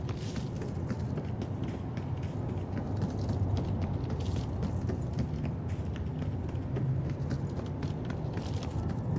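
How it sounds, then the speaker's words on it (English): Rapid, steady tactical-sprint footsteps running in Black Ops 6 over a dense, noisy game soundscape, continuous and fairly loud with no pauses for the full stretch. "This is a 360 tac sprint with the personalized audio."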